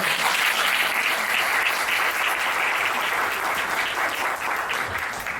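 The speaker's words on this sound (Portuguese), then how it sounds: "As palmas que ela merece" A seminar audience at a human rights and health panel gives a speaker sustained applause, a steady, moderately loud wash of clapping hands that stays even from start to finish, with no talking.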